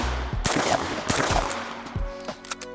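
Several gunshots fired at a bottle, about five sharp loud cracks at irregular intervals, each followed by a brief echoing tail, heard close with no talking.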